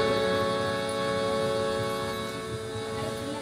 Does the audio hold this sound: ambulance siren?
yes